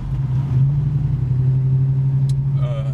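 A 1962 Ford Country Squire, all original, runs with a steady low engine rumble up close, a brief faint voice heard near the end.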